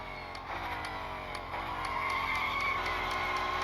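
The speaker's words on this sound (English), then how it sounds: "we're hearing a bit of skidding as well" Chevrolet Corvette Stingray C8 Limited Series tires skidding in a racing video game, a steady squeal over a droning engine that holds throughout and swells slightly toward the end.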